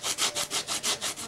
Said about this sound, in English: I want to do it by hand, with a sanding block and some 40 grit sandpaper.